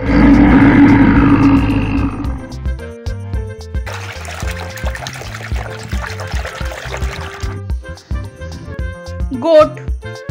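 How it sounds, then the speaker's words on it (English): A toy T-Rex dinosaur gives a loud, close roar lasting about two seconds, followed by trickling, pouring water and a short bright toy sound at the end, with music playing underneath. "T-Rex dinosaur."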